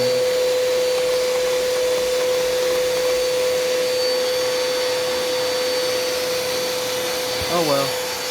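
A Bissell Pet vacuum cleaner runs steadily at close range, a loud constant whine with a strong motor tone that barely varies, and a short knock or shift in pitch near the end.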